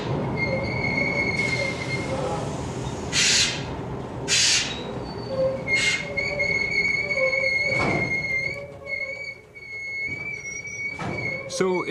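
A small red Glasgow Underground train, 1977, rumbles along with repeated high metallic wheel squeals rising over the clatter, and a voice briefly audible beneath the noise.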